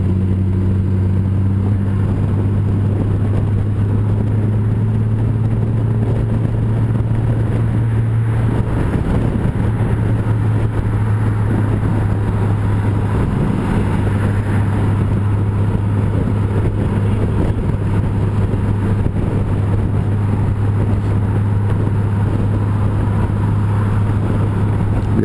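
A vehicle rides across the Wilson Bridge on Route 50, a steady loud engine hum with constant wind and road rush that never lets up, a faint pitch shift partway through, no voices.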